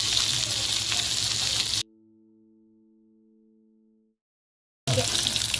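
Seer fish (vanjaram) frying in a pan: close, dense sizzling that cuts off abruptly into a near-silent gap with faint thin tones, then sizzles again at the end.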